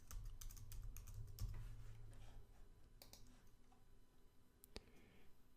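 A command is typed on a computer keyboard, with a handful of soft, close key clicks spaced irregularly over a faint background hum.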